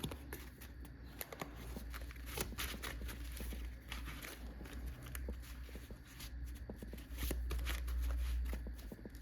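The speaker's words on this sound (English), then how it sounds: "so we are all shuffled up here" Quiet, repeated riffling and soft slapping of playing cards being shuffled close by, with light rustling throughout.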